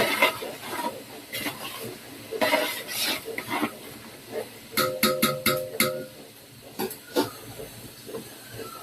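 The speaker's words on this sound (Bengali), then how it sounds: "তো পেঁয়াজ গুলাকে একটু ভেজে নিতেছি।" Onions sizzle and hiss in a hot pan while biryani is being cooked, a steady frying crackle broken by a few sharp clinks of a spoon or utensil against the pan.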